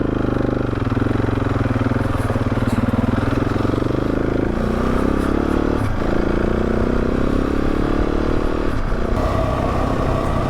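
Motorcycle engine running steadily and close while riding through a pine forest on an Arizona backcountry trail, with rumbling drone, occasional clatter and shifts in pitch, and no talking.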